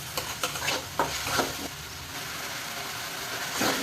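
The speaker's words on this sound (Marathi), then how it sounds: "कांदा बदामी रंगावर झाला तेल किती टाकायचं असतं तर तो कांदा जेवढा भिजेल ना, कांदा आपला चिकटला नाही पाहिजे याप्रमाणे तेल घालायचं" Onion sizzles in oil in a pan for a paneer curry, a steady loud frying hiss broken by repeated scraping strokes of a spoon stirring, close up with no talk.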